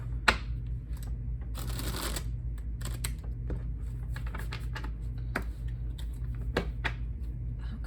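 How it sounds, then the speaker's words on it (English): Tarot cards are shuffled in quick bursts of riffling and soft slaps, with scattered clicks between, close and quiet, without any speech. "I'm gonna give another shuffle here."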